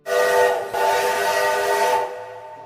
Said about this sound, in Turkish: Tren daha öfkeli çalmış düdüğünü.